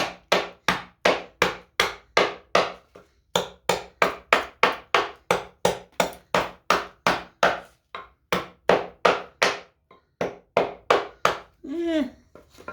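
Steady, rapid hatchet chops into cedar wood while carving a leaf, dozens of sharp strikes in a quick even rhythm with brief pauses, close and loud.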